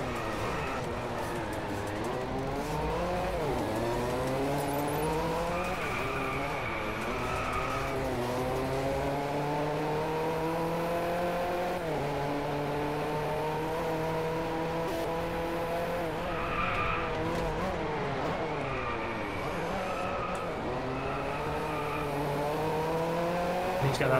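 A single-gear Koenigsegg Regera racing in the video game Driveclub, its engine rising and falling smoothly through long stretches without gear shifts, with occasional tire squeal, loud and continuous throughout.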